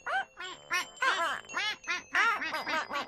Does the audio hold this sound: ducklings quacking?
yes